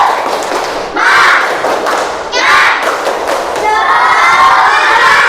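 Schoolchildren in a primary classroom do a rhythmic clapping chant, sharp patterned claps mixed with their loud chanting voices in short bursts.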